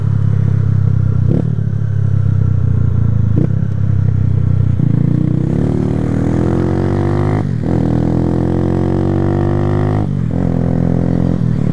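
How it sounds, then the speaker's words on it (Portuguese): Motorcycle engine blipped while downshifting without the clutch, a loud steady running note broken by several sharp throttle bursts and rising revs, close and continuous with no talk. "pra reduzir sem embreagem, você faz isso aqui, ó, no acelerador, ó. Dá uma bombada nele"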